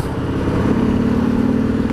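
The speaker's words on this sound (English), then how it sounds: "you still get that throaty rasp as you accelerate" A 2019 Harley-Davidson Sport Glide motorcycle engine rumbles with a raspy, throaty standard exhaust note that swells slightly as it accelerates, close and steady.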